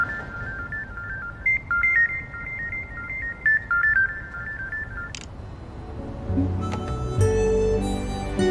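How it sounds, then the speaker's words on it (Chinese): A phone rings with a repeating electronic melodic tone, moderately loud, over a quiet background, before music with a fuller low end takes over toward the end. "电话响了。"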